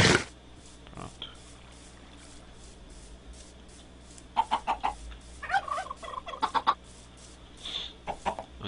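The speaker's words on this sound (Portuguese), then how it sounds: "Vou deixar minhas galinhas aí." Minecraft chickens cluck in short bursts of several quick calls, clustered toward the latter half over quiet game background, with a few isolated sounds earlier and no speech.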